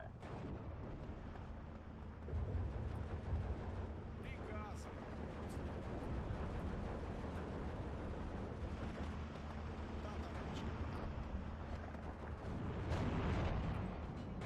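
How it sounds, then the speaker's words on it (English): Artillery barrage in Steel Division 2, heard as a continuous rumble of booms and distant blasts, with louder swells near the start and end, beneath someone talking. "You can see all of the artillery firing all this stuff in the middle."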